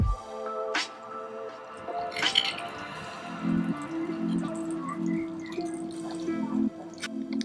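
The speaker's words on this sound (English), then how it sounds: "we're going to use this spoon and scoop out individual pieces of the uni" A metal spoon scoops individual pieces of sea urchin uni for a crab and uni roll, making soft, close wet squishes and small drips with no talking.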